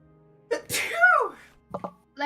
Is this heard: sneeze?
yes